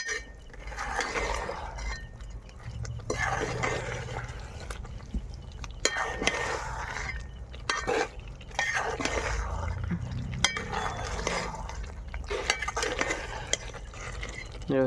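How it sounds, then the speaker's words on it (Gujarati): A spoon stirs fried Manchurian balls into thick gravy in a pan, giving intermittent wet squelches, scrapes and clinks of the utensil against the metal, fairly close and without talk. "ગોળીને આમાં મિક્સ કરી નાખશું અને પછી પાણી એડ કરવું પડશે."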